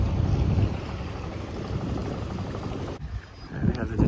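A sailboat under way on a sea trial with the genoa out: steady wind and water rush with low hull rumble, fairly loud, and a brief dip partway through. No one speaks.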